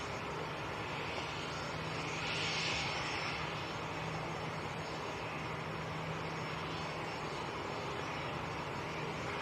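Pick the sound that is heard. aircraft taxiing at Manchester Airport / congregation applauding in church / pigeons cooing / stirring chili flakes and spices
aircraft taxiing at Manchester Airport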